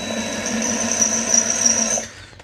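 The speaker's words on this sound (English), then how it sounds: "You can just put the drill on the lower speed." A power drill whines steadily for about two seconds while drilling out a rivet on a carbon slip-on exhaust from a first-generation Yamaha R1, close and alone before stopping abruptly.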